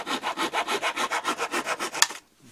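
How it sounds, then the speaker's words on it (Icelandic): A hand saw cuts through wooden wing spars of a Kwik-fli Mk III model aircraft in steady back-and-forth strokes, about a dozen rhythmic rasps ending in a final sharp stroke, close and alone. "Saga bitana."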